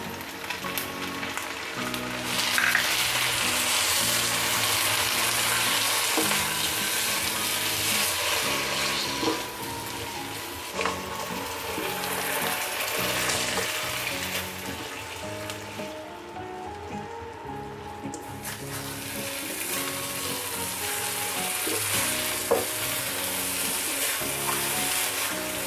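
Corned beef and onion frying in a pan, a continuous loud sizzle with scraping stirs and clinks of a utensil, no talking.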